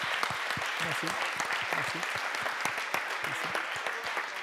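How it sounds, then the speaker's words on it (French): Audience applause at the Blue Ocean Awards 2016 ceremony, a steady wash of many hands clapping throughout, with a voice speaking briefly over it. "Je crois que vous pouvez l'applaudir."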